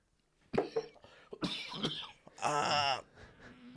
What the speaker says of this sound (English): talked too much and I had to cough, and I was still trying to talk through a cough